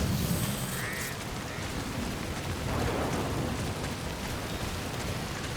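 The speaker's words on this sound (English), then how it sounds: "It's just been raining the entire fucking time." Steady rain pours down in the video game Death Stranding, a dense continuous hiss with a faint rumble of thunder underneath, sustained at an even level with no voices.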